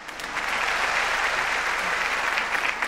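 An audience at a Pakistan Air Force commemorative stage show claps loudly and steadily, the applause swelling quickly after a brief start and holding as a dense, sustained patter for a few seconds.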